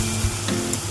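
Mushrooms fry in a pan with tomato and chili paste, giving a steady low sizzle and crackle through the whole short moment, with one soft clatter partway in and no talking.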